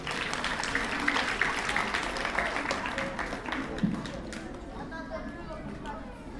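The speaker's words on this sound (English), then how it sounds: "give 3rd graders another round of applause" Audience at a school spelling bee for third and fourth graders clapping, the applause strongest early and thinning out, with chatter and voices mixed in.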